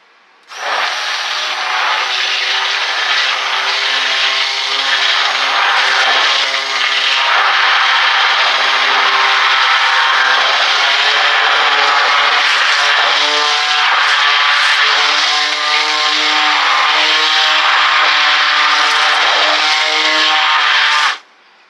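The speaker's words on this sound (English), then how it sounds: "Fun playing with the blender." A countertop blender whirs loudly and continuously for about twenty seconds, mixing thin, watery crepe batter, starting and stopping abruptly with a high motor whine.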